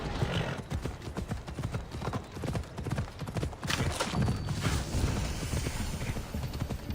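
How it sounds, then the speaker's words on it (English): Horse hooves clip-clop steadily in Assassin's Creed Odyssey, a brisk rhythmic gallop of repeated thuds close by with an occasional whinny and game ambience underneath. "Flying Stallion. Good stallion, baby."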